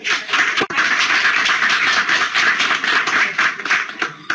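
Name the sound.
audience applause welcoming speaker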